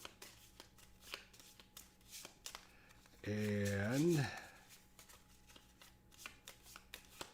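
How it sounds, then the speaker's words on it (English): Cards from the Fire in the Lake board game deck are riffled and shuffled by hand in short, soft, papery bursts. A voice speaks briefly in between, and there is quiet handling noise. "So I'm just going to shuffle these up."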